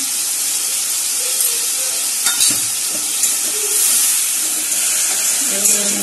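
Masala for a potato and soybean curry sizzles loudly in a pan as water is added, giving a hissing, steamy crackle with a few scraping stirs and occasional voice sounds in the background.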